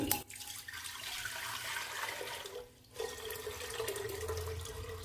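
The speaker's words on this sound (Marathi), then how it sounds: "कुकरमध्ये मी पाणी घालते" Water splashes and gushes steadily into a metal pressure cooker, a continuous rushing pour with a brief pause midway before it resumes.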